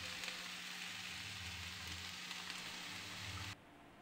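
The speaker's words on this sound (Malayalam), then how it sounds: "ഇനി മസാല ഒന്ന് വഴറ്റി കൊടുക്കണം." Spice masala sautéing in a pan over low flame, a soft, steady close sizzle with faint crackle throughout, cutting off abruptly near the end, with no talking.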